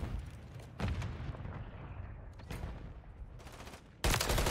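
Gunfire in a Call of Duty ranked match: several loud booming shots and bursts spaced across a couple of seconds each, with a heavy blast at the end over a low game-ambience rumble, no voices.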